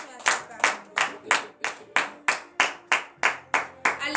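Rhythmic clapping from a church congregation during a morning prayer service, about eleven sharp claps in steady time, each ringing in the room, with faint voices underneath.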